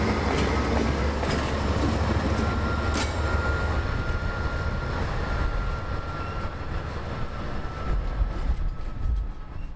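A CM44 locomotive on phosphate train B360 turns on a wye, its cars rolling past in a loud, steady rumble with clickety-clack of wheels over rail joints and occasional faint metallic squeals, no voices.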